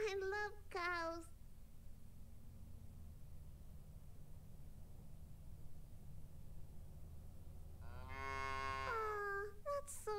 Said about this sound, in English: There's a bunch of cows on the field.